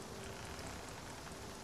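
Rain in the video game Spiritfarer, arriving at Greenhalton Bay, forms a soft, even patter over the whole moment, faint and unbroken with no speech.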